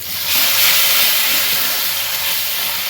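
Tomato puree hits a hot pan of spiced masala, setting off a loud, broad hissing sizzle that swells within the first half second and then holds steady, slowly easing off.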